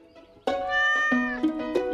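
A cat in the video game Stardew Valley meows clearly and close up, a long drawn-out call followed by two or three shorter chirpy meows in quick succession, with no speech over it.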